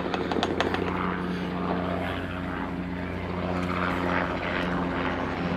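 An aircraft engine with a propeller-like drone, faint and steady with a slight rise and fall, in the background while no one speaks.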